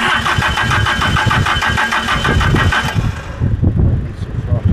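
A 1970s Hitachi excavator engine starting through added remote starter wires, a loud close cranking churn that catches and settles into a rough, rumbling idle.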